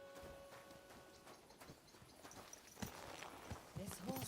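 Horse hooves walking in Kingdom Come: Deliverance II, steady clip-clop steps in an even rhythm, close but quiet, with a voice speaking over the later steps.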